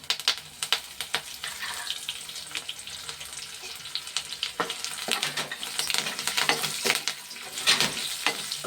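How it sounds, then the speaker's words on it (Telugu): Cumin, fenugreek, mustard seeds and curry leaves hit hot oil, producing a loud crackling sizzle packed with rapid pops and spits that builds and stays busy throughout. "ఓ స్పూను జీలకర్ర, 2 స్పూన్లు మెంతిపప్పు, ఓ స్పూను ఆవాలు, కరివేపాకు నుండి వేసేస్తాను ఇందులో"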